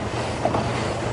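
Steady rhythmic clatter of a steam train climbing into hills, a continuous rumbling wash over the rails with faint wheel squeal.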